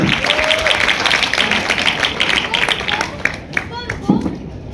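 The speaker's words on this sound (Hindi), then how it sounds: "जोरदार तालियों से स्वागत कीजिए कचामी नेताजी का" Applause from a street-play audience at a university Hindi Diwas performance, a dense, steady patter of clapping with crowd voices and some talk mixed through it.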